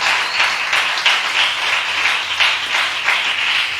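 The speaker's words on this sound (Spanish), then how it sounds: "dele un aplauso al Señor" A church congregation claps in praise during a worship service, with sustained, dense applause at a steady level and a faint low hum underneath.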